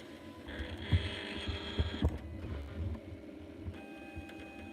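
A faulty Silhouette Cameo 3 cutting machine hums and whirs with a steady motor drone and a few soft knocks, then the drive cuts out partway through, leaving a quieter background.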